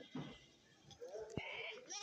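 Goats at a Kerala goat market bleat in a couple of short calls, faint against a busy background with people talking nearby.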